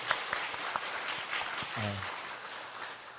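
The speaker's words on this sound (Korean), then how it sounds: "우리 서포터즈 우리 박수 한번 했으면 좋겠어요" Steady applause from a crowd fills the recording, with a brief voice rising through it midway.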